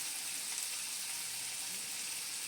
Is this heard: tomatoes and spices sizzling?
yes